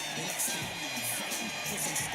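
A WWE wrestling video game crowd roars steadily, swelling in brief surges, with a commentator's voice faintly underneath.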